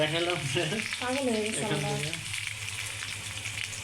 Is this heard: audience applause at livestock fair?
no